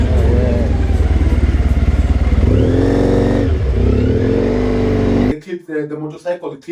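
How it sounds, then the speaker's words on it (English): A motorcycle rides through busy town traffic, its engine loud and close with a steady drone and a rising rev, before it cuts out abruptly and a voice briefly takes over. "the motorcycle"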